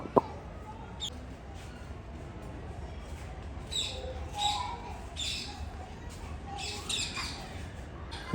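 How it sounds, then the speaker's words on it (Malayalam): Birds in a zoo aviary at Thiruvananthapuram give scattered, fairly faint squawks and short chirps over a low background hum, with a few sharp calls standing out. "ഒരുപാട് വെറൈറ്റിയിലുള്ള പല ടൈപ്പ് കിളികളും പക്ഷികളും ഒക്കെയാണ് ഇതിനകത്ത് കൊടുത്തിരിക്കുന്നത്"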